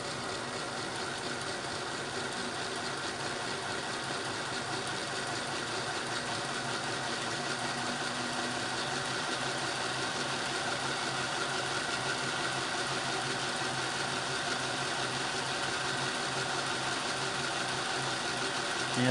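Bachmann 9F model locomotive running flat out at its top speed step, giving a steady, continuous motor whir and rolling drone that holds even and unbroken for the whole stretch, close and moderately loud.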